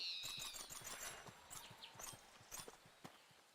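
Horse hooves clip-clopping in The Oregon Trail video game, a steady run of light rhythmic hoof strikes close up, with faint chirps and other game sounds mixed in and no talking.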